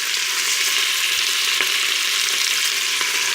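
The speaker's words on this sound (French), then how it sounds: "Du coup, on va mettre à dorer les morceaux de bœuf." Beef pieces browning in hot olive oil and melted butter, a steady, loud sizzling hiss throughout with a couple of brief pops and crackles, no voices.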